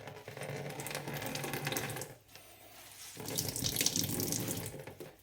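Water trickles and splatters steadily as grated potato is wrung out in a tea towel, with a brief lull before the dripping picks up again, close and fairly loud with no talking.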